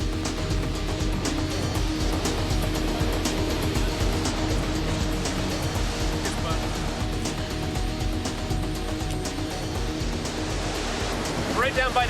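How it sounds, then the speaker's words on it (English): Heavy ocean surf pounds against rocks in pitch-black night during a simulated 150 km/h hurricane, a dense continuous roar of crashing water and wind that stays loud and steady throughout. "We can hear the waves pounding"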